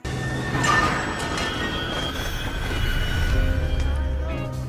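A train rumbles past close by, with a continuous rolling roar, metallic squealing tones and clattering wheels throughout.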